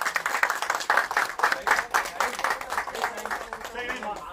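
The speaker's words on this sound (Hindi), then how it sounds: "एक बार जोर तालियां हो जाए प्लीज" Clapping from an audience at the Dadasaheb Phalke Icon Award event comes in pulsing, rhythmic bursts at moderate loudness while a voice talks over it.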